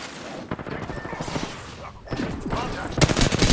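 Rapid bursts of gunfire in a video game shooter, clusters of sharp shots with a dense volley near the end, loud and close over background game noise.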